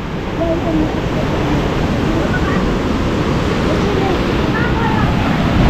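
Strong super typhoon wind roars in a dense, constant blast against the microphone, loud and unbroken throughout the clip.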